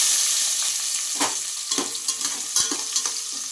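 Thinly sliced onions frying in a pan for veg pulao, a steady close sizzle broken by scraping stirs and small pops, with no voices.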